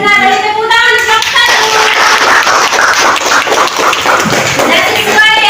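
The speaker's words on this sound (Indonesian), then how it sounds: "Silakan didengar dari tepuk tangan kelompok" Classmates in a school classroom clap for a presenting group, a loud, close burst of quick hand claps with a few children's voices mixed in, tapering near the end.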